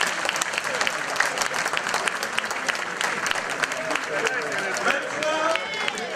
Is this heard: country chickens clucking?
no